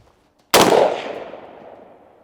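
A single sharp rifle shot from a general-purpose rifle cracks loud and close, then rolls away in a long fading echo across open ground.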